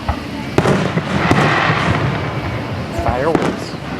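Fireworks bursting outdoors at a family's first fireworks outing, with sharp booms and crackles over a steady rumble while people talk nearby.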